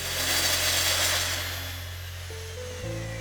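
A power saw cutting a Mistral worktop, its loud, close motor whine fading as the blade winds down, followed by a lower mechanical hum shifting pitch near the end.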